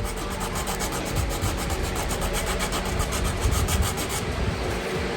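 Sandpaper rubs over a dried northern white cedar duck decoy in quick, rhythmic back-and-forth strokes, a close, steady raspy scratching with no one speaking.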